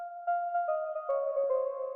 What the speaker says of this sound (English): Then we have this synth that sort of sounds like a Rhodes piano.